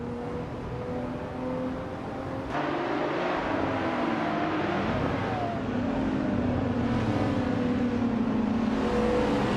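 Video game racing cars accelerate and overtake, a steady engine drone with rising revs and whooshing pass-bys, loud and continuous with no talking.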